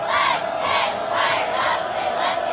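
A high school football crowd roars steadily in light rain just before kickoff, a dense wall of cheering and shouting with rhythmic swells of chanting.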